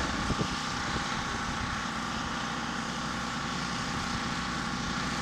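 A scale-model World War I SPAD 13 test flying gives a steady, droning engine buzz with no letup, moderately loud, with no voices.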